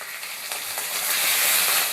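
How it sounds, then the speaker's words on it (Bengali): Potatoes frying in hot oil with turmeric for a raw banana kofta curry, a dense close hiss of sizzling oil that swells slightly louder toward the end, with no voices. "এই দিয়েই ভাজবো আলুটাকে।"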